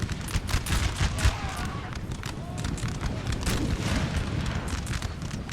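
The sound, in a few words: artillery fire in Napoleonic Total War 3 video game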